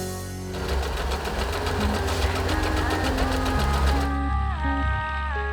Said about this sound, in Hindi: उषा एल्योर एक बेहतरीन सिलाई उपकरण है, जिससे आप मनचाहे सिलाई पैटर्न्स बना सकते हैं